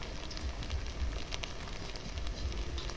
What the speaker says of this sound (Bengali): এইভাবে জলটা ঝরিয়ে নিতে হবে।